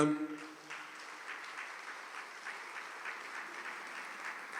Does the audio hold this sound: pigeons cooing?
no